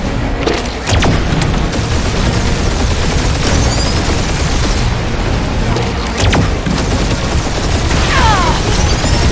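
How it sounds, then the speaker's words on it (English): A gunfire barrage from the video game Guardians of the Galaxy, with loud, dense, continuous blasts and booms, rapid bursts and sweeping sci-fi effects layered throughout. "Keep up the barrage. They will not survive it."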